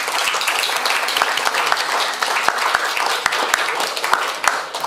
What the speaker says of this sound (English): a huge round of applause is necessary.